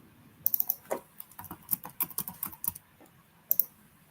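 A password is tapped out on a computer keyboard in an irregular burst of close, crisp key clicks, with a short pause before a final pair of presses.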